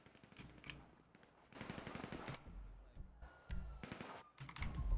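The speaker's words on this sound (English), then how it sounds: "Shots fired." Gunfire in a police roleplay video game, with bursts of shots spread across the clip, some rapid like automatic fire, mixed with background game noise and faint voices.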